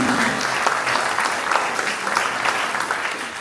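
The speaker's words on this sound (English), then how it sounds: "let's please give a round of applause for our candidates this evening" An audience at a Lakeway city council candidate forum applauds the candidates: sustained, moderately loud clapping from a room full of people, steady across the whole stretch with no speech over it.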